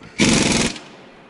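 A power tool, likely an impact driver, snugs down exhaust manifold bolts while a turbo is fitted to a 12 ISL engine: one loud, close half-second rattling buzz, then quiet.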